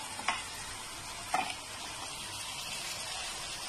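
Mutton added to cooked masala in a karahi, a continuous close sizzle with a couple of sharp stirring knocks early on.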